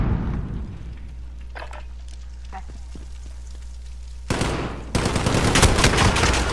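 Rapid automatic gunfire from a video game erupts in a dense, steady burst near the end, after a stretch of low game ambience with faint scattered pops.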